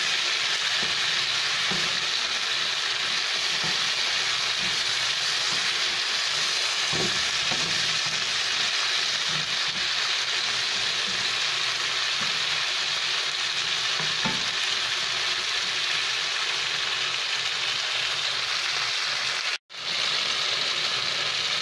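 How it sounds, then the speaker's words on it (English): Pork stir fry sizzles steadily in a pan, a loud continuous hiss with occasional soft stirring clinks, heard alone without talk. "We're going to cook this for 2 minutes. Stir fry again for 2 minutes."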